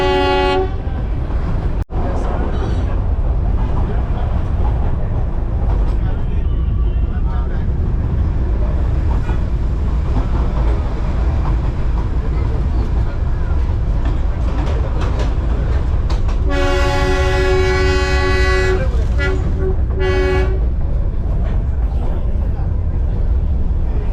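The Darjeeling toy train rumbles along in a steady rolling din, with wheels clacking on the rails, horn toots sounding several times near the end, and voices faintly audible beneath the noise.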